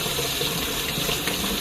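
Hot tap water runs steadily into a sink, a loud close continuous rushing gush with no voices.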